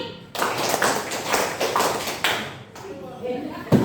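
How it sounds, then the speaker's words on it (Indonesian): A class of students claps together on a teacher's command, a series of quick, fairly close hand claps with voices talking around them. "Tepuk 4 kali"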